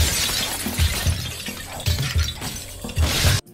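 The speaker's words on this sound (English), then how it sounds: "the satisfying crunch of the glass underneath the bat and your feet" In a Roblox video game, glass shatters and crunches under a bat and footsteps, a dense, loud crackling texture with repeated heavier crunches, close up and without talk, ending in a sudden cut.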